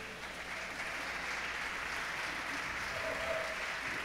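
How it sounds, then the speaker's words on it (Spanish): Steady applause from an audience at a prize presentation for the Spanish individual spearfishing championship, a dense even wash of clapping that holds at one level for about four seconds with no talk over it. "Un aplauso"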